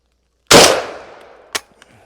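A Spandau S2 semi-automatic 12 gauge shotgun fires outdoors. One loud, booming shot rings out with a decaying echo, then comes a sharp mechanical clack and a faint click.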